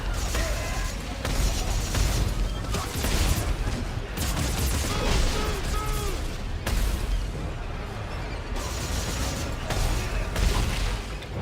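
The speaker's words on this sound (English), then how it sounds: "Were those fucking rockets?" Rockets fire in a video game amid heavy combat: repeated loud bursts, booming blasts and rattling gunfire come in waves, while players' voices talk over the action.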